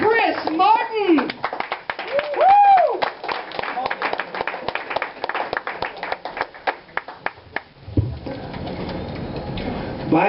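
A comedy club audience on Canada Day claps and cheers as the comedian Chris Martin is introduced. The clapping is loud, rhythmic and close, with whoops and shouting voices mixed in, and a murmuring crowd follows.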